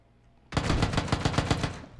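Loud, close automatic gunfire in PUBG: a sharp onset followed by a steady rapid string of about a dozen shots over a second and a half.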